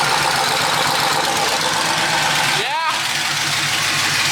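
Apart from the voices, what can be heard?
LS-swapped Mustang engine starting and idling through straight pipe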